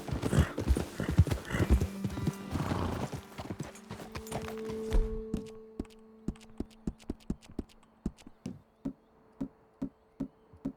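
Horses' hooves clip-clop along in Red Dead Redemption II, first under busy clatter and a low hum, then as evenly spaced steps alone as the other noise drops away.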